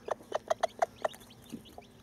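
A Millefleur Pekin bantam hen with seven chicks clucks in a quick run of six close, soft rhythmic clucks, followed by a couple of quieter calls, nearby and alone.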